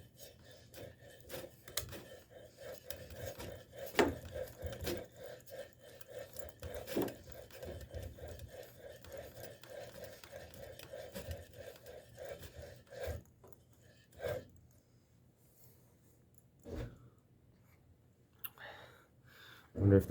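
A rusty, worn GE vent motor hums in a low, rough drone with a faint rasping rub, then cuts out partway through, leaving sporadic knocks and clatter in a quiet room.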